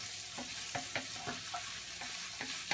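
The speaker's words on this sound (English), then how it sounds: "I'm going to give my tofu one last stir here." Tofu being stirred in a pan, a soft ongoing sizzle punctuated by about eight regular scraping knocks of a utensil against the pan.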